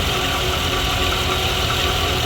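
A 2019-or-newer GM truck's 5.3L or 6.2L V8 running after a stretch belt replacement, a loud, close, even idle hum with steady mechanical vibration and no speech.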